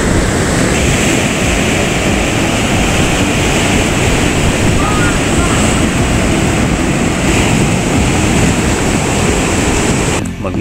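Steady roar of sea waves and surf heard from a beach resort room, loud and continuous with a windy hiss throughout.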